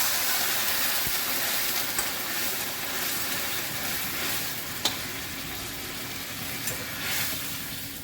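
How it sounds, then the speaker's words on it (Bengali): Hot water hits lentils frying with spices in a pan, a loud broad sizzle and hiss that holds steady, with a sharp clink partway through. "এবার গরম জল দিয়ে দিচ্ছি।"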